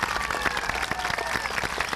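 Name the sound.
audience applause at school celebration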